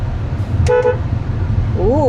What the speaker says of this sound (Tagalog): Lakas din ng busina niya.